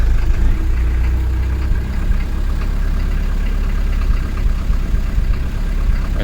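Small glow-plug engine running steadily, a loud, continuous close-range drone with no pauses.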